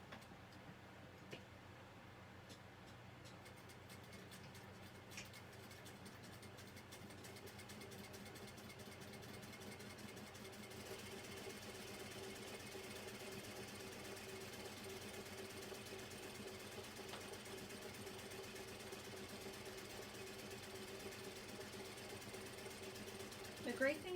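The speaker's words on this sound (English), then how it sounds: "I'm going to stitch this between the markings." A sewing machine runs steadily as it stitches a recessed zipper panel, producing a fast, quiet mechanical ticking hum throughout, with a voice talking faintly over part of it.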